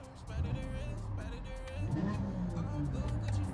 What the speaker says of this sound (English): I know y'all want to hear that Muffler, so I'm gonna show you that Muffler.